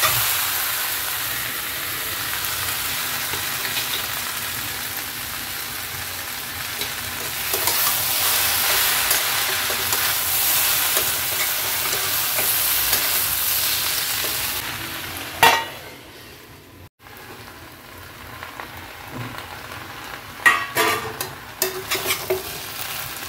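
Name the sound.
onion stalks and shrimp frying and being stirred in pan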